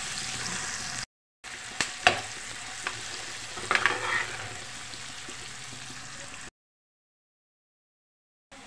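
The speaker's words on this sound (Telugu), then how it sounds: "ఇలా వేసుకొని ఫ్రై చేసుకోండి" Onions, curry leaves and turmeric fry in a pan with a steady close sizzle, broken by a few sharp scrape and stir clicks, before the sound cuts out for a stretch near the end.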